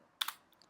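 Two or three quick, faint keystrokes click on a computer keyboard, close and isolated in an otherwise quiet room.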